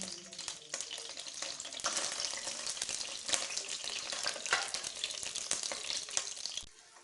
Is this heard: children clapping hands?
no